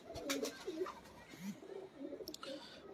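Pigeons cooing at a rooftop loft, soft repeated low coos with a few faint chirps, close and moderately quiet over light background noise.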